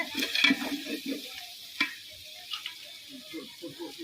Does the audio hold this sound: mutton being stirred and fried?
yes